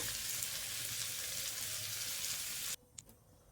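Water poured into a pan of potato and prawn curry, a steady loud rushing pour for nearly three seconds that stops abruptly, leaving faint clinks.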